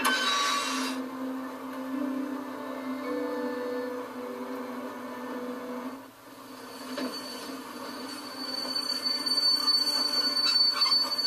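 Train wheels rumbling and squealing on rails in The Walking Dead video game, a steady, continuous grinding roll with a high metallic squeal, close and loud throughout, with no talking.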